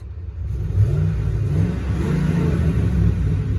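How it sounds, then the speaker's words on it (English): A Ford truck engine revs up close, its deep rumbling growl climbing quickly after a quiet start and then holding at a loud, steady roar with no talking. "Hear that engine rev."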